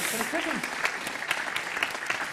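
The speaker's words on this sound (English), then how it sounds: "A big round of applause." Audience clapping at a stage event, a short burst of moderately loud applause following a brief spoken phrase from a host.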